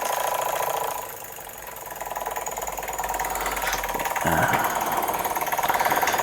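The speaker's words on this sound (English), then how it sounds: "These American Jensen engines are very well made, and they generally run superbly." A small American Jensen 25 model steam engine runs steadily, a fast even mechanical chatter with a continuous rhythmic beat and whirring, growing slightly louder partway through, heard close up.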